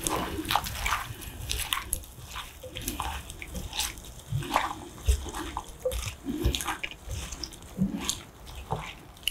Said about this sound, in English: you add the water and you work it in